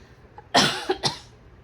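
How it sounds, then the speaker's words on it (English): A sharp cough followed by two smaller coughs, close and clear, with quiet in between and no talking. "I still have a cough."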